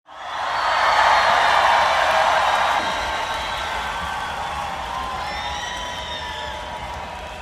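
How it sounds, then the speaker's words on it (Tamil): A large crowd at a film pre-release event claps, cheers and whoops to welcome actor Sathyaraj on stage. A loud swell rises quickly at the start, then a sustained roar carries on with whistles and shouts. "ஒரு மிகப்பெரிய கைத்தட்டலோட லெட்ஸ் வெல்கம் ஆர் புரட்சி தமிழன் சத்யராஜ் சார்"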